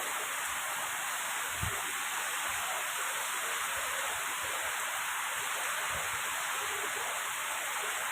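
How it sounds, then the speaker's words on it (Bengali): Heavy rain pours down in a strong wind, a dense, even roar of falling water that holds steady throughout, with a few faint low knocks beneath it. "ঝপঝপ ঝপঝপ করে বৃষ্টি শুরু হয়ে গেছে"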